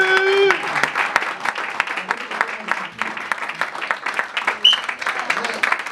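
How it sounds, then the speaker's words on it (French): Church congregation applauding during a New Year's Eve service, steady clapping throughout with voices mixed in, a sustained mid-distance crowd sound. "Acclamez Jésus"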